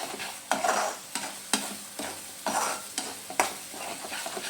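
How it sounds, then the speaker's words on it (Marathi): A spoon stirs a paneer masala mixture in a sizzling pan for matar paneer, scraping in a steady rhythm of about two strokes per second over a soft frying hiss, close and without voices. "तर हलवत राहायचं आहे।"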